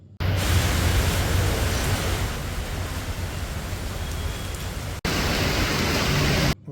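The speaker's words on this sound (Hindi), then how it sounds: "जो आपने सुना होगा मूसलाधार बारिश" Heavy torrential downpour in Gurgaon, a dense, steady roar of rain filling the whole scene at high volume with no voices, briefly cut once partway through before resuming just as loud.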